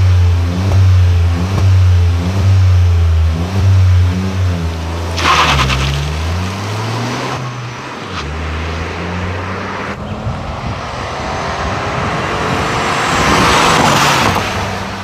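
Seat gendarmerie police car engine revs in bursts outdoors, a loud, close throaty drone rising and falling, then fading into wind and rushing noise as it pulls away.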